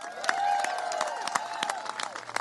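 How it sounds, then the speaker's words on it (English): Audience applause at a Texas Democrats news conference in Boston, heard as sparse, uneven claps over a steady tonal room hum with a low crowd murmur. "So give yourselves a big round of applause."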